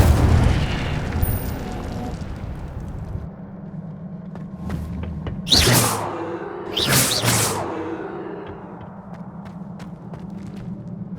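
Two separate whooshing, booming bursts of an Incendio fire spell cast in Hogwarts Legacy, loud and close, follow a quieter ambient stretch in the game and are spaced about a second apart.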